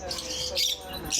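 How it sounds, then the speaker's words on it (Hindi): Parrots squawk at a bird market in Rabwah, several sharp, close squawks in quick succession over market bustle, with someone speaking at the same time. "अच्छा सफीद साहब ये तोते कौन से हैं?"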